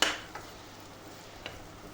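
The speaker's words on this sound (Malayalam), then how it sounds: "നന്നായിട്ട് ഇളക്കി മസാലകളൊക്കെ ആ കിഴങ്ങിൽ പിടിക്കട്ടെ." A spoon stirs a spiced potato mixture in a pan, meant for a cornflakes dish. There is a sharp scrape at the start, then a couple of soft taps and faint shuffling over a quiet background without speech.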